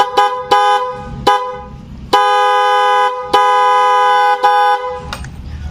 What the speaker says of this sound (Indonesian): nih ini klakson sudah amat sangat kencang nih